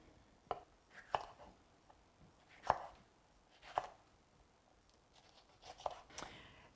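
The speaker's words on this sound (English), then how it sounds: "I'm just going to take off the tops and slice them into smaller parts." A knife slicing peppers on a cutting board after the tops come off: a handful of sharp, separate chops spaced unevenly through quiet pauses, fairly close and clear, with no talking.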